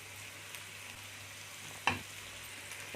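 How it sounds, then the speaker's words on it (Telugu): Prawns and onions fry in a pan for a prawn masala with a faint, steady sizzle and one sharper scrape of stirring partway through. "ఇప్పుడు ఇందులో ఫ్రాన్స్ వేసేసుకుందాం"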